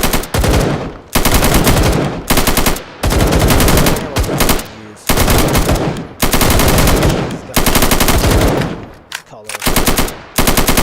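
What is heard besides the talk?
soldiers firing machine guns in video game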